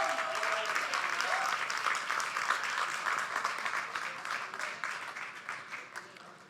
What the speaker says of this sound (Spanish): Denle al Señor el aplauso